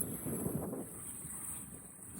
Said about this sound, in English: Nice gusts coming through, smooth, really smooth.